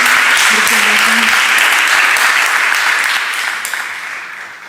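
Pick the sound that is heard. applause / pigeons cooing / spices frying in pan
applause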